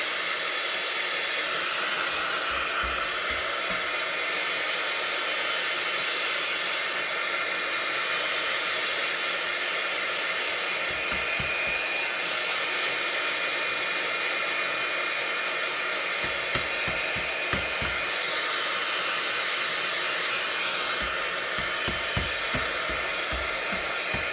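A hair dryer blows steadily on a journal cover before gesso is applied, a loud, close, continuous rushing whoosh throughout, with occasional faint low thumps of handling underneath.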